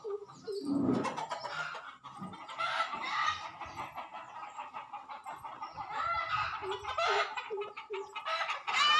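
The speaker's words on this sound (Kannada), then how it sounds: "ಕೋಳಿಗಳು ಈ ಥರ ಕೂಗ್ತಾ ಇದ್ದರೆ ನನಗೆ ಭಯನ ಆಗುತ್ತೆ" Several village chickens cluck and call over and over at close range, with sharp squawks and a running chatter of overlapping calls and no talking.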